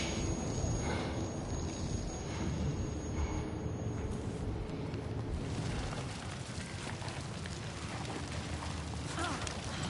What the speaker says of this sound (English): There it goes. The plane exploded.